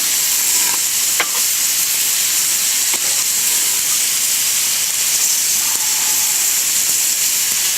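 Meat with fat frying in a pan outdoors, a loud steady sizzle and hiss throughout with a few faint clinks from stirring, close up and with no talking.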